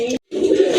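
Caged khaki pigeons at a seller's coop coo up close, a loud throaty burst broken by a short silence before a longer, resonant rolling coo, with no speech over it.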